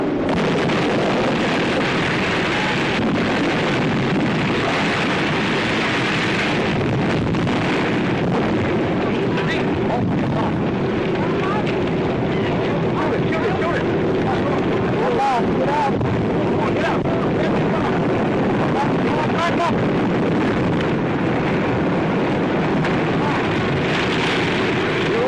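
Old 1937 newsreel audio of the Hindenburg hydrogen airship exploding and burning: a constant, roaring, crackly wash of noise with booming bursts, as a narrator speaks over it throughout.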